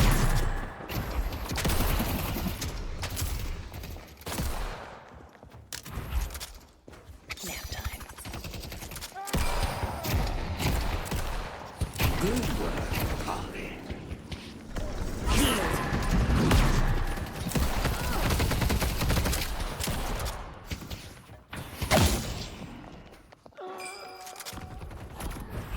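Rapid bursts of gunfire in the hero shooter Deadlock with Soul Shredder bullets, loud and nearly continuous for the whole stretch amid game effects, with voices over it.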